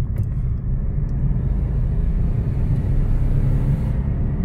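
A car engine rumbles as the accelerator is pressed, a loud, close, steady low drone that holds throughout with no talking over it.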